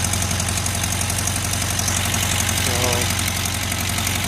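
A 1973 VW Karmann Ghia engine idles steadily nearby in a garage with a low, even rumble and a faint rhythmic knock, fairly quiet and unchanging throughout, running after 28 years unused.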